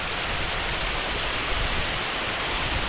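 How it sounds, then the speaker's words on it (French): A small waterfall pours steadily in a river valley, a dense, even rush of water noise that stays close and constant with no break or voices. "Avec la petite cascade."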